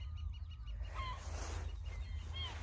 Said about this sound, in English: I got a red-bellied woodpecker close by.